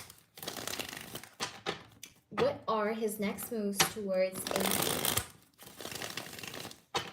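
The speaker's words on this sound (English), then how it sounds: "Let's shuffle the cards really well. Raffle shuffle." Tarot cards being riffle shuffled, with bursts of quick, clicky fluttering before and after someone speaks in the middle.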